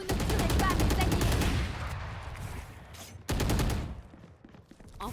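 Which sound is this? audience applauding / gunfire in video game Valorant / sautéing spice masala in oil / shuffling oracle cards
gunfire in video game Valorant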